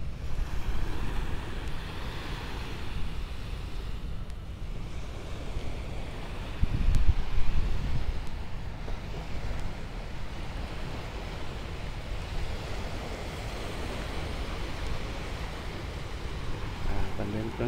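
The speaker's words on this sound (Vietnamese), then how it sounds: "Về về đêm rất là tốt, mát mẻ, êm, sóng biển, nghe sóng biển không?" Sea waves wash onto the beach at Nha Trang at night, a steady broadband surf roar with gentle swells, a brief louder surge midway, and wind buffeting the microphone throughout.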